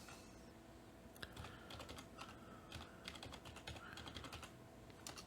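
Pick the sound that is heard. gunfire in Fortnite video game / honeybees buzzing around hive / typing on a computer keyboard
typing on a computer keyboard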